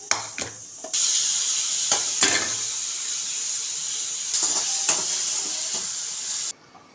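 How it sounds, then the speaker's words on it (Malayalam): Cooked vegetables and soya sauté in coconut oil for an egg pulao, giving a steady close sizzle broken by sharp stirring knocks and scrapes before it cuts off at the end. "വേവിച്ച് വെച്ച പച്ചക്കറി ഒന്ന് വഴറ്റും വെളിച്ചെണ്ണ കുറച്ച് ഇതിൻ്റെ തൊട്ട് ഒന്ന് വഴറ്റും"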